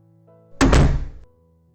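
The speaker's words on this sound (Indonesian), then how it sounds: "membuka pintu kamar dengan kasar tak peduli bila pintu itu rusak" A bedroom door is flung open roughly, giving a single loud, heavy thunk that rings briefly and then fades over quiet background tones in a dramatized romance story.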